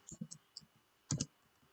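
A handful of close, quiet clicks from a computer keyboard, a few quick taps followed by a slightly louder pair, with no talking over them.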